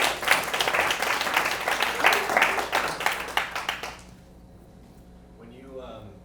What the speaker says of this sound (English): Can we clap it up again?